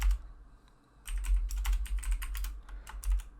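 Typing on a computer keyboard, with a short pause followed by a quick, irregular burst of close, crisp keystrokes.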